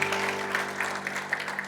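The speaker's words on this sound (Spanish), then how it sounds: "Denles aplauso fuerte a Cristo" Congregation applause during a Christian church service, a steady, moderately quiet wash of clapping with a low hum underneath, lasting under two seconds.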